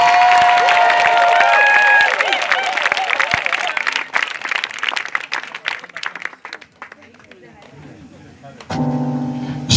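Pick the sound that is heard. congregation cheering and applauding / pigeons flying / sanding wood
congregation cheering and applauding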